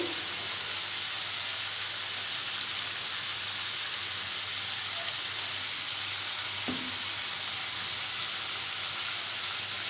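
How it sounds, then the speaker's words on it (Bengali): Long beans fry in hot oil in a pan with salt and turmeric, giving a steady, even sizzling hiss close by that runs the whole time, with no talking. "হলুদ গুঁড়ো, দিয়ে বরবটিগুলো খুব ভালোভাবে ভেজে নেব।"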